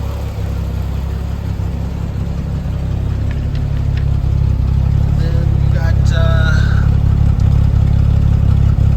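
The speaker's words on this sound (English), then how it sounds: "It's got that British car sound." A 1973 Triumph TR6 with a stock engine and dual outlet pipes runs close by, a steady loud engine rumble that rises slightly in the second half, with brief voices talking over it.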